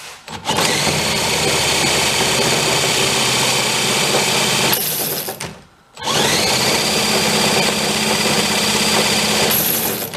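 A small outboard motor on an old 7-foot boat runs at a high, buzzing idle, cuts out briefly to near silence, then catches and runs loud and steady again.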